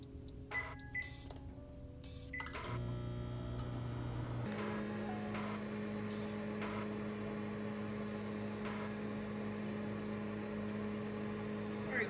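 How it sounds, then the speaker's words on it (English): A low, steady microwave oven hum runs continuously with faint ticks and clicks over it while heating noodles. "the noodles is in the microwave"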